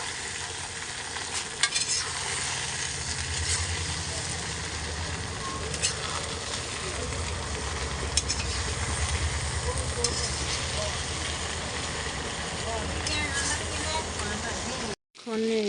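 Jujube pickle stirred with chili powder in a pan, a dense continuous sizzle and scraping close by, with a few clicks and a brief cut near the end, under a faint murmur of speech.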